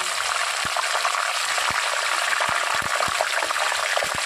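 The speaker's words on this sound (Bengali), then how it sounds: "কারি পাতাটা যেহেতু আমি ধুয়েই সাথে সাথে দিয়ে দিয়েছি, এই জন্য এরকম একটা আওয়াজ হচ্ছে।" Freshly washed curry leaves dropped wet into hot oil, giving a loud, steady hissing sizzle with scattered small pops and spits, close and continuous without talking.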